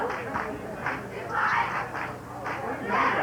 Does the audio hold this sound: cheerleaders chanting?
yes